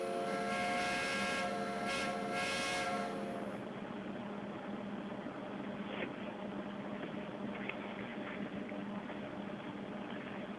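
A loud, sustained steam whistle blows for a few seconds at a logging railroad shop over a rumbling, hissing background, then cuts off while the steady rumble continues.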